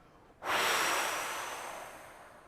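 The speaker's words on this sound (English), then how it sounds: "And now, cannonball breath out." A forceful cannonball breath pushed out in one long exhale during a guided breathing exercise, close and breathy, starting abruptly and fading slowly over about two seconds.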